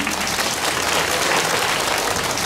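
Audience applause during a Buddhist dharma talk, a continuous dense clapping from a large crowd, steady and fairly loud throughout.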